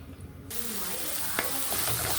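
Eggplant slices dropped into hot oil, a soft sizzle that bursts in abruptly after a quiet kitchen moment and then holds as a steady low crackle with a few small pops, heard at close range and fairly faint.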